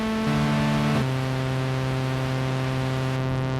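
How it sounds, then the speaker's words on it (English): Steady broadband hiss of pink noise from a Hydrasynth Explorer synthesizer, continuous and even, with faint sustained tonal hum underneath and no talking. "pink noise"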